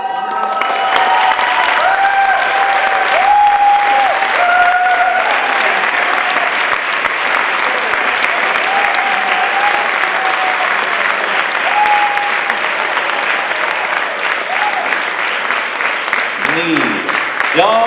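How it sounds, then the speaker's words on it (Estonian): An audience at a film premiere gala applauds steadily for the whole stretch, dense clapping with some crowd noise, while a presenter talks over it in Estonian. "Ja aplaus ei rauge."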